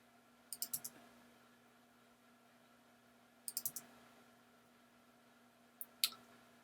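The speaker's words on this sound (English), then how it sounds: "Click into this one, just hit tab on your keyboard." Computer keyboard keys clicked and tapped, including the Tab key, while formatting a document: three quick bursts of soft, close clicks spaced a few seconds apart over a quiet room hum, with no talking.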